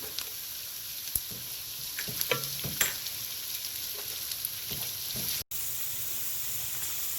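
Onions sautéing in a pan for a chicken stew, a continuous frying hiss dotted with light clicks and spatula scrapes in the first few seconds, then a steady sizzle with no talking.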